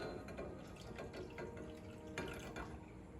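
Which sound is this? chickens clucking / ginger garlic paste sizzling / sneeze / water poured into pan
water poured into pan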